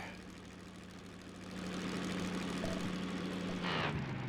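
An engine left with the throttle still open drones low and steady, then grows louder and rougher into a continuous grinding hum, with a short higher buzz near the end.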